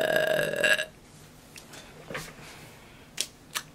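A person burps once, loud and close, in a quiet indoor setting; the burp is followed by a few faint clicks and small bumps.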